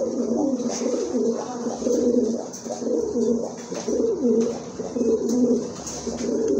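Pigeons coo repeatedly at close range, soft throaty rolling calls that overlap in steady phrases, with faint chirps and light background noise and no talk.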